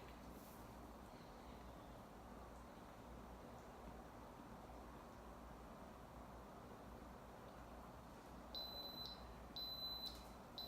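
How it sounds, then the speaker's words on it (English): Against a steady background hiss, a few short high-pitched electronic beeps from an Instant Pot pressure cooker sound near the end of the clip, faint and evenly spaced. "I'm going to let it beep."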